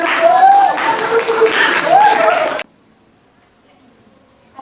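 Applause from a group gathered to welcome a family-institution team presenting their learning project, loud and close with voices mixed in, cutting off abruptly into near silence after about two and a half seconds.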